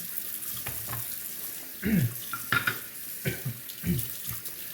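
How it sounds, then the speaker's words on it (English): Running tap water splashes over a sharpening stone as it is rinsed during straight razor honing, with a steady stream, wet hand-rubbing swishes, and a few louder splashes close by. "I think I'm gonna rinse out the stone because it's getting pretty dark with the swart"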